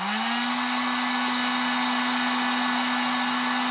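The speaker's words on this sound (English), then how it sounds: "Let's see if I can do this on the lowest setting on this heat gun" Harbor Freight heat gun running on its lowest setting: steady, close motorized whir and airy blowing that spins up in the first half second and then holds an even hum, with no talking.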